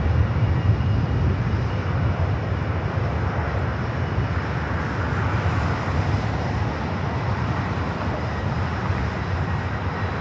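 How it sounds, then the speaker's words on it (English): A Lufthansa Airbus A340-300 on short final for runway 24R at LAX gives a steady, broad low roar of jet engines that holds evenly for the whole stretch, with no voices. "Again, this is Lufthansa Flight 450, committed from Frankfurt on this A340-300. Now short funnel for runway 24 right here on the north side of LAX."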